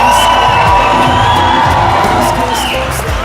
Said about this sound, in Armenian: էդ ինչ լավ ծափեր էր